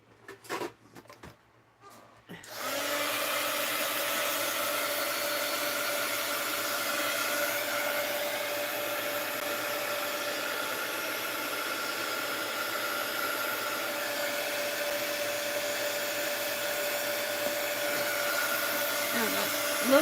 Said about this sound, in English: let's hit it with the heat gun